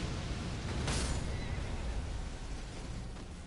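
A horse in the video game Elden Ring neighing as it dies, a loud, harsh whinny rising briefly over dense, noisy game audio.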